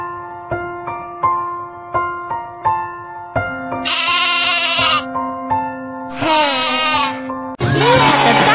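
Bright plinking game-style tones repeat in a children's mobile game, then three loud cartoonish sheep bleats ring out close and clear.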